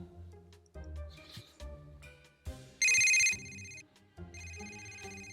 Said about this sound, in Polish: Telefon słyszałam? Mama dzwoni.